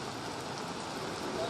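Steady, dense hiss of rain falling, an even wash of noise without pauses.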